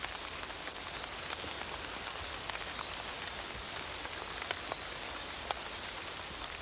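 Steady tropical jungle rain falling and running down a tree trunk, a dense even hiss with scattered drip and patter ticks, close and continuous with no voices.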